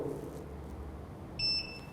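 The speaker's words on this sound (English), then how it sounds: "This beeping sound means that the strobe is fully charged and ready to throw the light." A camera studio strobe flash gives a short electronic beep of steady tones near the end, signalling full charge, over a quiet room hum.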